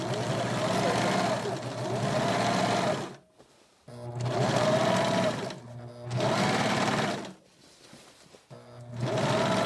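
A serger sews the seam of an isolation gown in three long, steady motor bursts of loud machine whirring, separated by brief pauses, with no talking.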